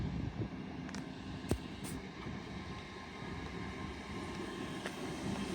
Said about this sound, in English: Departing now will be your delayed 1250 Hull Trains Paragon service from London King's Cross